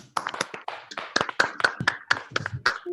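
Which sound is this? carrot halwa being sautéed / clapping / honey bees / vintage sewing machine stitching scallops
clapping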